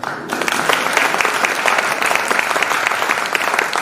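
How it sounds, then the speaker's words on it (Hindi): A large audience at a Jain religious discourse claps loudly and continuously, a thick wash of hands with slightly uneven surges throughout. "अपने सौभाग्य का अनुमोदन करने के लिए अनुमोदना करना है तो अच्छे से ताली बजाओ"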